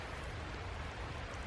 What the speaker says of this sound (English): So it's not raining too hard right now, so I can kind of take my time with this.